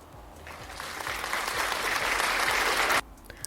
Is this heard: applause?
yes